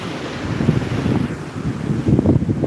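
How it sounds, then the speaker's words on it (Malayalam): Waves surge and break close by at Vettukad beach, a continuous rushing roar with wind buffeting the microphone; swells build louder toward the end. "തിരമാല വരുന്നത്"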